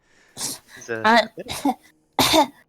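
A few sharp, close coughs in quick succession, with a throat-clearing rasp between them and no other sound around.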